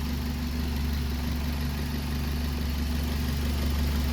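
A worn Toyota 1.5 litre engine in a 2006 Scion xB with 262,000 miles idles with blow-by, giving a steady low mechanical hum and faint ticking vibration, close and continuous, with no speech.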